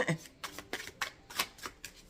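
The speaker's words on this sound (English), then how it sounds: "Let me shuffle." Tarot cards are shuffled by hand in a series of quick riffling bursts, close and moderately loud, five or six short shuffles in about two seconds.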